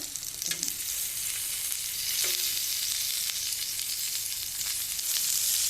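Tofu pieces frying in hot oil in a pan for sweet and sour tofu: a dense, continuous close sizzle with a couple of faint utensil touches.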